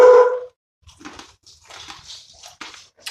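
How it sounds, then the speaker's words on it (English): A lurcher lets out one loud, close bark right at the start, followed by quieter scattered rustling and shuffling. "The lurcher barks and it sets the great white off."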